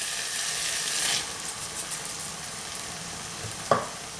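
Homemade Bolognaise sauce stirred in a pan: a dense sizzling rush for the first second, then quieter bubbling with soft spoon scrapes and a sharp clank near the end, no talking.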